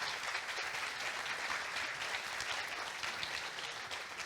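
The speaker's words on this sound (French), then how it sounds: "On peut les applaudir." An audience at a tech conference opening claps for the platinum sponsors, a steady, even wash of applause from many hands, fairly distant and quiet, lasting the whole moment.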